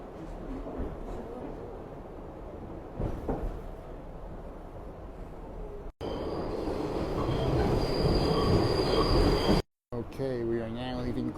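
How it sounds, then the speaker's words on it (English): A New York subway R62 train rolls through an underground tunnel near Clark Street, its wheels squealing steadily under a loud, continuous rumble, with brief dropouts in the sound. "step one will be to take this train to Times Square"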